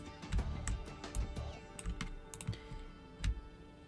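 Rapid clicks of a computer keyboard being typed on, close and fairly quiet, in irregular bursts of keystrokes with a few louder taps standing out.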